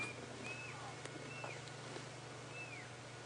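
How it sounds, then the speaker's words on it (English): A pearl-spotted owl calls at night during an evening safari drive, giving a few faint, distant whistled notes that slide downward, spaced apart over a low steady engine hum. "a pearl-spotted owl calling."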